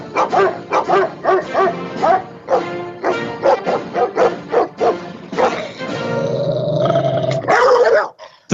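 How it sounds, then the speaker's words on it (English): A dog barks and growls repeatedly on a radio broadcast, with loud close yaps and snarls in quick bursts and then a longer whimpering growl near the end. "That was Biden's dog."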